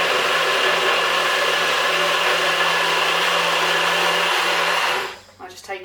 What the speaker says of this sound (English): one of those Nutri Ninja thingies